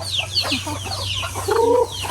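Chickens cluck steadily up close, several birds overlapping in a busy farmyard chorus.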